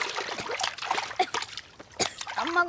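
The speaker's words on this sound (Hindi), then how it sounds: "पानी में गुड़गुड़ करने लगे बिचरू।" A boy struggling in water throws up bursts of splashing and sloshing, several irregular splashes and trickles close by, with voices briefly heard alongside.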